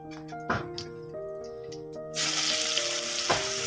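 Cumin and onion frying in hot oil for a tempering, a steady sizzle that swells suddenly louder partway through, with a couple of soft knocks from a utensil, no talking.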